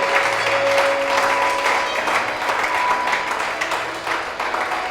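Congregation in a church service claps together in sustained, dense applause for the Lord, steady and fairly loud throughout.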